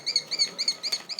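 A small bird at a veterinary clinic chirps in quick repeated high bursts, about five short tweets in a row, close and clear over a quiet room with no talking.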